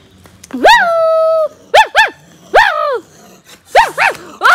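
An angry bulldog barks loudly and close by, giving one long drawn-out howling bark followed by several shorter, sharp, rising barks in quick bursts.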